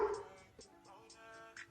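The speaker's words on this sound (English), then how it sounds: "Excuse my dog." A house dog gives a few short yips and barks, fairly close, with a brief whimpering tone, over a quiet indoor kitchen background.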